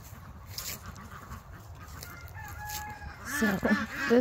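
A backyard chicken flock clucks quietly in the background, with a louder, drawn-out rooster-like call rising near the end.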